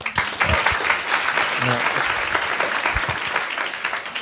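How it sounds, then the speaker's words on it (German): Audience applause at a German comedy contest, a dense wash of clapping that holds steady for several seconds, with a brief voice and scattered shouts rising over the crowd. "Macht mal Applaus, wenn ihr es kennt."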